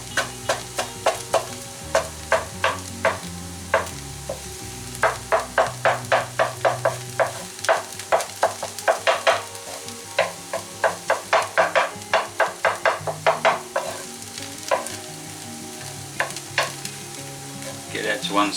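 An egg frying in a pan for vegetable egg fried rice, chopped up as it cooks, produces a steady sizzle under rapid, rhythmic tapping and chopping strokes against the pan that come in quick bursts, with no talk.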